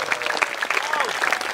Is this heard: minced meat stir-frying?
no